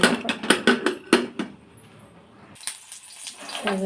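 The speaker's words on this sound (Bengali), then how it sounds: "প্রেশারে দিয়ে দিলাম প্রেশারে সিটি দিয়ে নেব ঢাকনাটা লাগিয়ে দেবো" A pressure cooker lid is clattered into place over mung dal, with a quick run of metallic knocks and clinks, a pause, then a louder clank and scrape as it seats, close and sharp.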